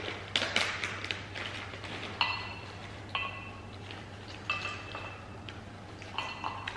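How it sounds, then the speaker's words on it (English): Cashews drop into noodle bowls with light clinks and taps against the dishes, a scatter of small close pings over a quiet kitchen hum. "the last step is to add some cashews to each bowl"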